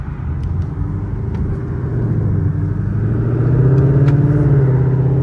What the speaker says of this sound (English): We are here with the first drive of the Mustang.